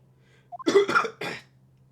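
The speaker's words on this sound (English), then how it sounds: "Oh my god, I'm coughing like him, spitting out blood like that." A few short, harsh coughs in quick succession from The Great Ace Attorney Adventures game, close and fairly loud, over a low steady hum.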